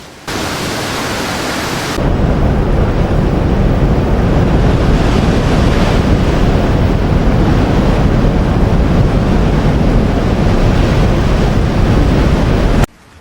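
Typhoon Co-May lashes Hong Kong with powerful wind gusts and heavy rain, a loud, dense, unbroken roar of wind and surging water that swells after a brief quieter opening and holds steady throughout, with no voices.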